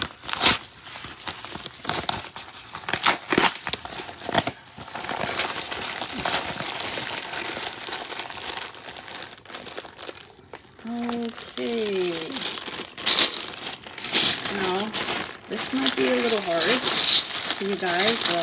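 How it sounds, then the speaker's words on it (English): Plastic package from a LEGO BrickLink haul being torn open, a run of crinkling, crackling rips close up, with someone talking over and between the tearing. "Just ripping it."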